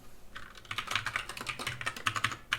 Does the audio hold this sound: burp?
no